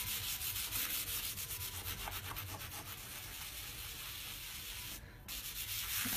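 Close, steady rhythmic scrubbing with cleaning paste on an old stove top, a rough back-and-forth rubbing that continues with only a brief pause.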